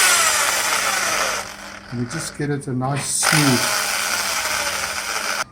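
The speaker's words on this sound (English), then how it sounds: "I'll put it in a drill and spin it, and put a little piece of sandpaper on this commutator where the carbon brushes run." A vacuum cleaner motor armature spins in a drill while sandpaper is held against its commutator, giving a close, continuous whirring and grinding rasp with someone talking over it.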